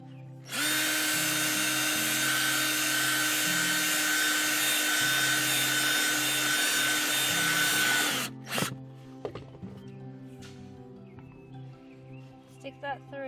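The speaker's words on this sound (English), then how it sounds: "just a couple inches from the top, you're gonna drill a hole." A power drill bores a hole in wood for a garden trellis, running in one steady, loud whine for about eight seconds. The drill then stops and a few handling clatters follow.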